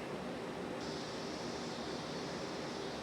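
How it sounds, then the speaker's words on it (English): Tap water running steadily while hands are washed in a home kitchen, a constant soft rushing hiss with no talking. "Let me wash my hands."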